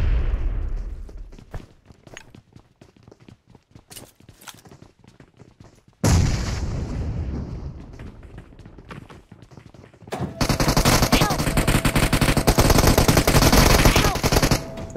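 Gunfire in the mobile battle royale game PUBG Mobile comes as scattered single shots, then a loud heavy burst and a dense sustained stretch of rapid automatic fire near the end.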